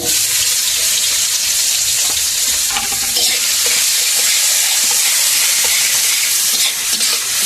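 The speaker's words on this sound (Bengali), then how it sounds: "ওই গরম তেলের মধ্যে দিয়ে দেবো বাদ বাকি যে পেঁয়াজগুলো কোচানো ছিল" Chopped onions fry in hot oil in a pan after potatoes, making a loud, continuous close sizzle with faint stirring clatter throughout, no voices.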